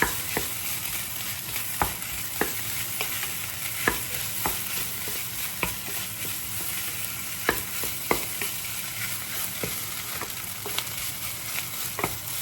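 Pork belly fried rice being stirred and tossed in a hot pan, with a steady frying sizzle and repeated sharp scrapes and clacks of the utensil against the pan, close and continuous with no talking.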